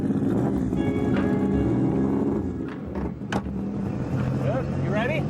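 A fast motorbike engine idles and revs close by, a loud steady harmonic drone that dips briefly midway, with brief mechanical clicks and people talking over it.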